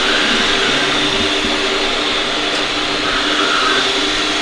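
A Eufy 11c robot vacuum runs downstairs with a steady, loud whirring motor hum and airy rush, continuous and unbroken throughout, no voices.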